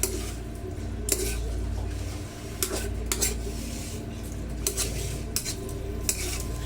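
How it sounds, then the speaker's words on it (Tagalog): Tofu sisig stirred quickly in a pan, spatula clanks and scrapes against the metal at irregular intervals over a steady low sizzle and kitchen hum. "Haluin po natin ng maigi, mabilis ang halo lang po para po hindi mag-dry ang ating"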